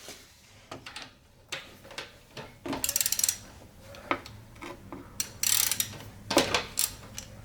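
A tool loosens hydraulic-lifter valve adjusters on an engine, with close ratcheting clicks and metallic scrapes in irregular bursts over a quiet background.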